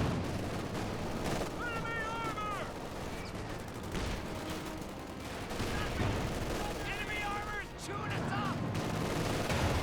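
MG42 machine gun fire in the Company of Heroes 2 video game, bursts of rapid gunfire within a dense, busy battle mix of distant shots and effects, with a commentator talking throughout.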